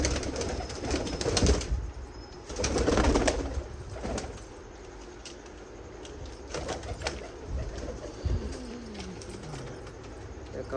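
Pigeons from a champion flock offered for sale cooing in a loft, soft repeated coos with occasional wing flutters and rustling, fairly close and without talk.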